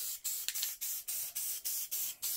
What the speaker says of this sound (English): Spray all around, far away, lightly.